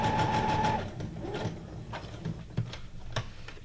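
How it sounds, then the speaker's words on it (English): A sewing machine stitches around paper ephemera pieces for junk journal cards, a steady close mechanical whir with rhythmic ticking that eases slightly after the first second. "Gotta sew, and I'm sewing around them twice."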